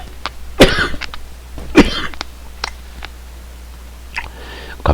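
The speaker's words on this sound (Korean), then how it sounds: "갑자기 기침이 나오네요" A person in a lecture recording coughs sharply twice in quick succession, close to the microphone, then clears the throat more softly.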